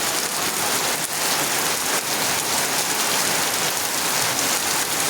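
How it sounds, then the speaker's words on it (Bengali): Heavy rain pours down steadily on Gobindapur village in Feni district, Bangladesh, a dense, loud, unbroken hiss with no voices. "প্রচুর বৃষ্টি"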